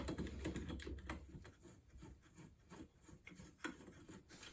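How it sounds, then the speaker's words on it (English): Screws are unscrewed from a router mount on an X-Carve CNC Z-axis, heard as faint, close, scratchy rasping and small metallic ticks in irregular turns. "now that that's loose, I can just go ahead and unscrew it"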